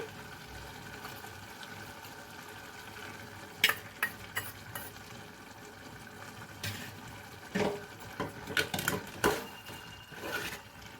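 Coconut paste being stirred into a frying tomato chicken curry with broad beans, giving a steady low sizzle with scattered scraping knocks of a spoon against the pan, close and without talk.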